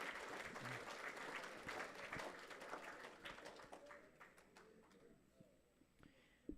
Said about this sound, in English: one more big round of applause, everybody who got a chip.